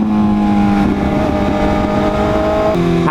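A car with a loud exhaust accelerates on a gravel road, the engine note droning and climbing in steady tones, close and loud, with a gear change near the end.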